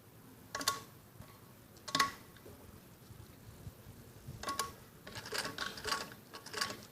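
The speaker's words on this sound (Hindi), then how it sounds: "इस पे सिलाई लगाते ऐसे ही चले जाएंगे" A sewing machine stitches the hem of a kids' skirt in several short, quiet bursts with pauses between runs.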